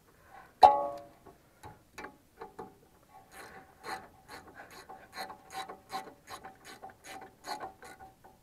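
A ratchet wrench clicks in quick repeated bursts while tightening a brake caliper bolt on a Peugeot 308 during a rear brake pad change, starting with a sharp knock, then close, rhythmic ratcheting strokes with no talk.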